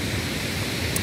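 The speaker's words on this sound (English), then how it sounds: "you end up at the waterfall" Steady broadband rushing of a waterfall at a lakeside game lodge, a continuous even roar of falling water with no breaks and no voices.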